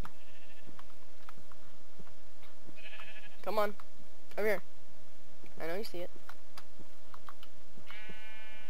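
Sheep bleating in Minecraft, several wavering bleats around the middle and another near the end, over steady game background tones while a person talks and coaxes.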